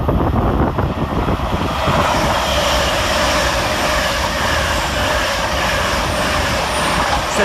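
Class 800 unit 800 104, the Aberdonian service from London King's Cross to Aberdeen, passes through Doncaster station with a loud, continuous rumble and roar that holds steady for the whole stretch.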